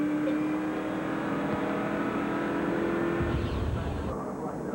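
A NASCAR race car pulls out of pit lane at Daytona in 2000, a steady engine roar heard beneath a commentator's voice, with a deeper rumble rising near the end.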